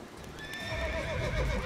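Roach the horse from The Witcher 3 lets out a single close, clear neigh, a rising and falling whinny lasting about a second, with faint hoof clip-clop beneath and no talking.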